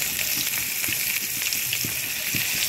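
Fish sizzling and crackling steadily in hot oil in a pan, a close, continuous fry with scattered pops and no voices over it.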